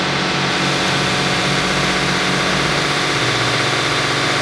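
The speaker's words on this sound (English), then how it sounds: "So you see the motor spinning, so just a quick test." An HVAC unit's motor at a carwash runs steadily during a quick test, giving a loud, constant mechanical hum and whir that holds throughout, with no talking.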